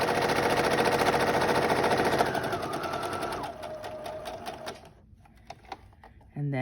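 A sewing machine top-stitches around the edge of a fabric face mask, running in a steady close whir for several seconds before stopping, followed by faint clicks and handling noises.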